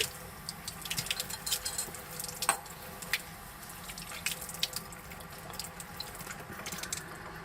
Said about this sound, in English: go ahead and use the water running from the sink to clean your glassware